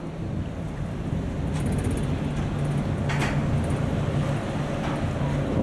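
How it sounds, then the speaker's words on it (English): A Brisbane CityCat ferry pulls into its next stop on the river, heard as a steady low engine drone mixed with wind buffeting the microphone, with no talking. "It's a city cat pulling into the next spot."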